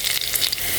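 Onion and a few garlic cloves sizzle in hot oil in a brief, close crackle of frying with no voices.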